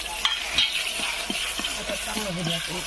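Chili powder, turmeric and salt sizzle in hot oil for a vegetable curry while a spoon scrapes and stirs the pan in steady strokes, with a soft voice talking over the frying.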